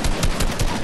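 Rapid automatic gunfire in Fortnite, a dense, loud stream of shots with steady rhythm, close and unbroken.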